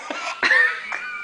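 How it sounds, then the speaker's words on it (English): A harsh, wet bad cough comes in about three quick bursts close to the listener, with a wheezy, raspy edge. "Oh, that's such a bad cough."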